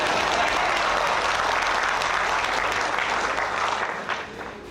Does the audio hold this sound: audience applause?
yes